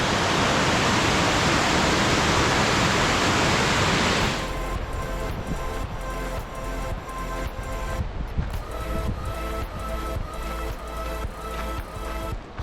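A steady roar of a waterfall fills the first few seconds on a canyon hiking trail, then gives way to quieter, busier outdoor sound with the rush still underneath.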